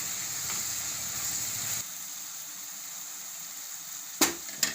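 Turmeric, coriander-cumin and red chili powder sizzle in hot oil in a pan while palak dal is being cooked. A steady close hiss is fairly loud at first, then drops to a softer simmer, with two brief clatters near the end.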